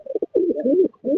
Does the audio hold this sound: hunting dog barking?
no